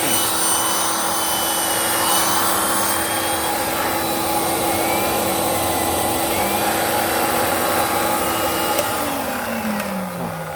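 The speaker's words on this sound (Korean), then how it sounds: "모터 하나 꼈을 때 이 흡입력으로 브러쉬를 돌리다 보니까" A DSZERO-A carpet cleaning machine, built for dry and wet cleaning of carpets, mattresses and sofas, runs its suction motor with a single motor on, driving the brush. It makes a loud, steady, unbroken whine and roar that lasts throughout.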